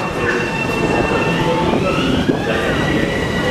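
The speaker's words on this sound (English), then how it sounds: "Yes, this is the Ronkonkoma train." A crowded LIRR Ronkonkoma commuter train passes on the Main Line, a continuous loud rumble of wagons and rails with faint wheel squeal and a sharp clank partway through.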